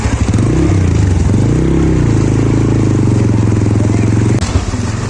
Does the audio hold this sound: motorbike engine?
yes